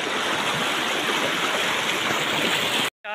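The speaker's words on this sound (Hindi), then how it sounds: "वहाँ से झरना बहता हुआ आ रहा है" A waterfall near Shimla highway, India, pours continuously in a dense, loud hiss, close by, cutting off abruptly near the end.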